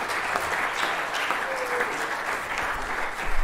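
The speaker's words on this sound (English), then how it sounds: "can we just give her that round of applause?" At a school sixth form prize giving, an audience applauds an award recipient with a steady, even burst of clapping lasting a few seconds, with a faint voice briefly audible beneath it.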